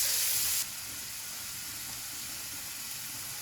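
Onions go into olive oil and butter in a pan, giving a steady, even sizzle that stays close and constant, with a brief louder hiss at the start.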